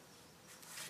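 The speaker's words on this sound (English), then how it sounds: "So there's a wasp." Wasp buzzing near a Japanese honeybee (Apis cerana) hive set in a tree trunk, a faint, brief insect drone that swells slightly toward the end against quiet outdoor background.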